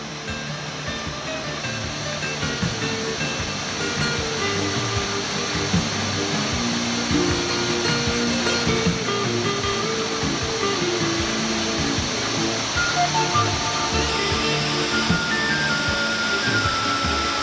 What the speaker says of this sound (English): Crossing streams again and again, loose rocks, dangerous, tricky footing, and always the numbing presence of the icy water.